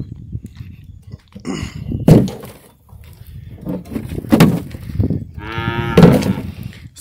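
A calf trapped on a farm moos repeatedly, with three loud, drawn-out calls spaced a couple of seconds apart, close by, with outdoor ambience between them.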